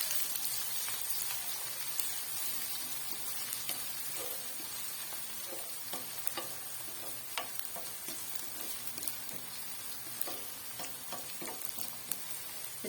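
Chopped ginger and garlic frying in hot oil with browned onions for dhaba-style daal mash, a steady close sizzle with scattered crackles and pops throughout, no voices.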